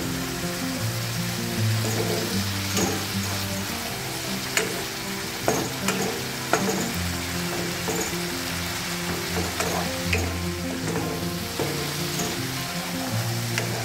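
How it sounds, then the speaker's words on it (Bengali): Spice paste with salt fries and is stirred in a pan on medium flame for a rohu fish yogurt curry, giving a steady, close sizzle with occasional scraping stir strokes and no talking. "এইবার আমি আবারও এটাকে 2 মিনিটের মতো মিডিয়াম ফ্লেমে কষিয়ে নেব।"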